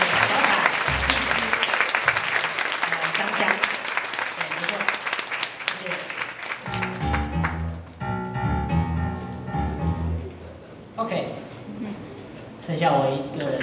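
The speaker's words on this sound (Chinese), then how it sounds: "热烈的掌声。" A concert audience breaks into warm applause, a dense crackle of many hands that holds for about six seconds before thinning out as music and voices take over.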